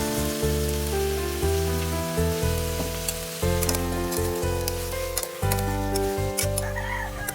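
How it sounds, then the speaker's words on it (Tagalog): Vegetables sauté in a hot pan for a home-cooked budget dish, a steady loud sizzle close by with faint stirring clinks in the background. "Ilagay na natin ang gulay mga karaki para magisa ng maigi."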